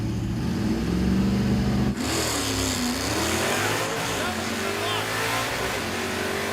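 A '56 Chevy field car accelerates hard down a drag strip, its loud engine climbing in pitch and dropping sharply at each gear shift, roaring steadily throughout while a voice talks over it.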